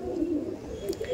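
Madrasi pigeons give a brief, faint, low cooing murmur at close range.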